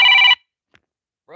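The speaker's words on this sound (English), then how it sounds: "stop calling my phone" A phone rings with an incoming call, one short bright electronic ring burst, then silence with a faint tick, before a second ring begins at the very end.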